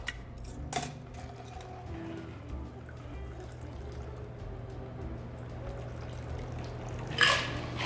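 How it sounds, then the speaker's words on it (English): Ice water is dumped from a chilled coupe glass and a Bee's Knees cocktail is strained into it, giving soft pouring and trickling with a brief splash at the start and another near the end. "We're gonna empty the water and ice, and we're gonna strain up."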